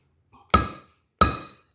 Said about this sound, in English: I've just been tapping it in with the dolly and a hammer